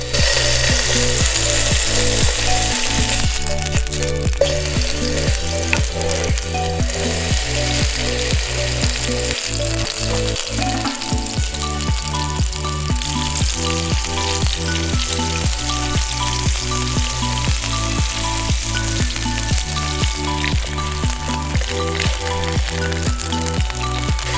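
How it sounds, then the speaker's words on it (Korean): Mini burger patties sizzle steadily in olive oil in a pan, a loud, continuous close-up frying hiss with a rhythmic mechanical pulsing running underneath. "달고님편에 올리브오일을 두르고 패티를 구워주시면 됩니다."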